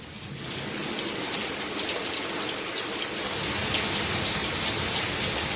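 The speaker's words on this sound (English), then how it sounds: "Raining hard as a rock" Heavy rain shower pouring steadily during a thunderstorm, a dense, even wash of hissing drops at close range that holds loud and unbroken throughout, with no voices.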